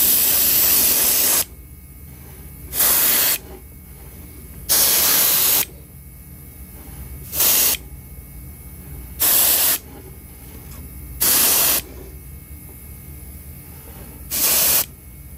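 An airbrush sprays paint onto a custom Hinkle trout fishing lure in repeated short hissing bursts of one to two seconds each, about eight in all, separated by quiet pauses, close and crisp, with no talk.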